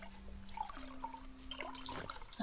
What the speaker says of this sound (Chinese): 倒水